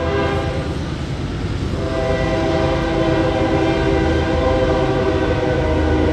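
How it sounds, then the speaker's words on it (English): A southbound hotshot intermodal freight train led by a 44 DC locomotive blows a long, loud, sustained multi-tone horn over the steady rumble of the passing train, with no talk. "there's 203, southbound hotshot intermodal from Rutherford, Pennsylvania to Atlanta,"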